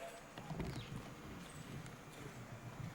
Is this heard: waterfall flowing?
no